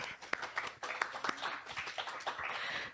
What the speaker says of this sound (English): another round of applause for Regan Strong